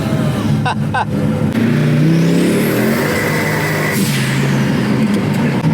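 A high-powered car accelerates hard as its loud engine note climbs and falls with wheelspin, a brief clatter early on, and the tone rising sharply through each gear, with voices talking under the engine noise.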